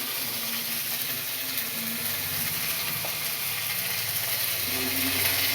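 Onion and garlic paste sizzles steadily in a hot pan while crab is cooked, a constant close hiss with faint clinks of a utensil.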